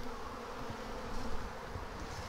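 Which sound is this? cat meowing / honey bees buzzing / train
honey bees buzzing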